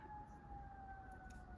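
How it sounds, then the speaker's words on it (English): A faint, steady siren wails in the distance, a sustained tone drifting slowly over low background noise. "I got sirens going in the background."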